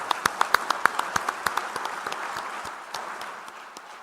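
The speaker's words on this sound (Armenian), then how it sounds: "ես առաջարկում եմ ծափահարություններով ողջունենք մեր արցախցի քույրերին ու եղբայրներին" Audience applause welcoming compatriots from Artsakh at a public gathering: a burst of sharp, distinct hand claps that starts strong and gradually thins and fades over a few seconds.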